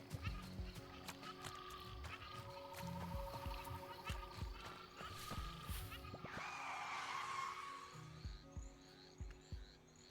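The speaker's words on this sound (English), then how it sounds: "Tire screech." A tire screech in the video game Bear and Breakfast, a rising shrill skid swelling over a couple of seconds midway, set against steady game music and light rhythmic footsteps.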